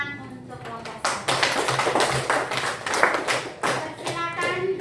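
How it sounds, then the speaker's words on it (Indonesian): Students in a classroom clap for the first discussion group, a burst of fairly dense applause with some voices mixed in, fading near the end. "Mari kita tepuk tangan untuk kelompok 1"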